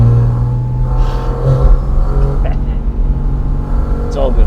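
A Porsche Cayman GT4 RS on the Furka and Grimsel Pass in the Alps hums with a loud, steady engine drone from close by, with a rising rev near the end. A voice talks over it.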